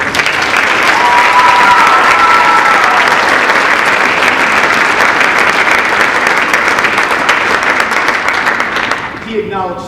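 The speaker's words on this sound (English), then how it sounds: "how about one more round of applause for Mr. Posey and the vocal program?" Loud, sustained audience applause for a high school vocal program at a Christmas event, a dense continuous wall of clapping with faint cheers, fading away at the very end.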